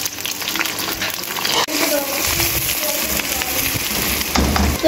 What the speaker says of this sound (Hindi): अब हम प्याज को फ्राई करेंगे।